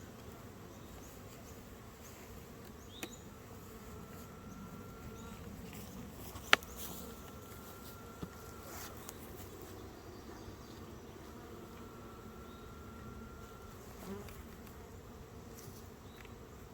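A steady, low insect hum of honeybees in beehive nucs droning continuously, with a few faint clicks and a thin tone drifting through at times.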